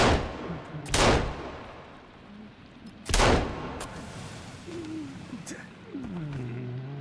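Gunfire in the survival video game Sons of the Forest, two sharp loud shots about two seconds apart with faint bird-like calls and game sounds between them.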